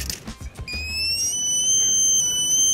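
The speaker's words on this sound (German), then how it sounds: "Fängt es an zu piepsen, keine Ahnung wieso." A Bluetooth anti-theft safe goes off in a false alarm, sounding a loud, piercing electronic tone that starts after some brief knocks and holds steadily to the end.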